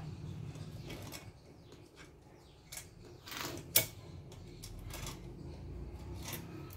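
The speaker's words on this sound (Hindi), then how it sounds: "स्प्रिंग को जो है इस तरह से यहाँ पे रखना है और इस बोल्ट को यहाँ से डाल देना है।" Metal parts click and scrape as a spring and bolt are fitted into a foot pump, with short rubbing and clinking handling noises and one sharp metallic snap, close and fairly quiet.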